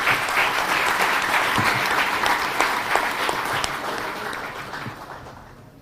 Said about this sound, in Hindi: जोरदार तालियों से आप स्वागत करें।